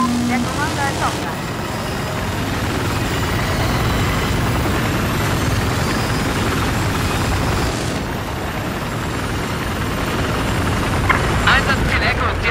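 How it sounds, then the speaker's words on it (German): An enemy helicopter in a combat video game drones as a steady, loud rotor and engine rumble throughout, with talk over it and brief mechanical clatter near the end. "Da scheint ein feindlicher Helikopter zu sein."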